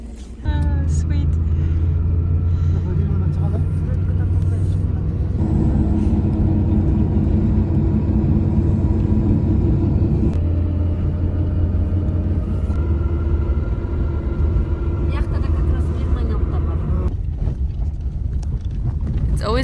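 A steady, loud, low rumble from inside a hitchhiked car driving on a road near the Chinese border toward Kel-Suu, with wind buffeting and a few small shifts in engine tone.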